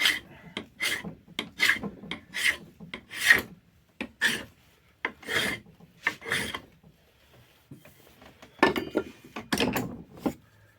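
A dull hand tool, likely a drawknife or spokeshave, scrapes shavings off a hickory axe handle in a series of close, rasping strokes at an irregular rhythm, with short pauses between passes and no talking.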